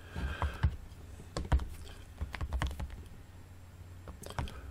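Quiet clicking of typing on a computer keyboard, irregular bursts of keystrokes with short pauses, close by and alone.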